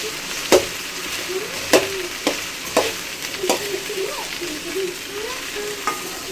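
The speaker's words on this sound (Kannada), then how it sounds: "ಇದು ಚೆನ್ನಾಗಿ ಅಂಟಂಟು ಹೋಗೋ ತನಕ ಫ್ರೈ ಮಾಡ್ಕೊಳ್ಳಿ." Sliced okra and chopped onion fry in a pan for gravy, a steady low sizzle broken by sharp scraping clicks of a spatula stirring every second or so, close and fairly loud with no talk.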